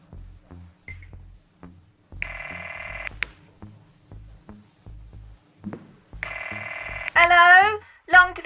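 A mobile phone disguised as a cafetiere calls headquarters: two long electronic ring tones sound about four seconds apart amid soft dialling pulses, then a voice answers.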